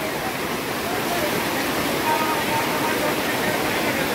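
Heavy monsoon downpour drenching a weekly open-air market in Yavat, a dense, steady roar of rain pouring down without pause, loud and close throughout.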